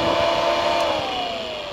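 Radiator cooling fans on a Toyota MR2 Turbo with a swapped second-gen 3S-GTE run after being switched on manually, a steady close whirring rush of moving air that holds briefly and eases slightly.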